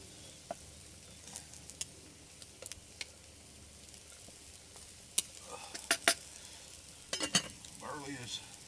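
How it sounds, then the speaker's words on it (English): Quiet, steady sizzling of chicken on a hot grill, with occasional sharp clicks and scrapes of a spoon nearby. "Chicken, you can just hear it. It's sizzling away nicely."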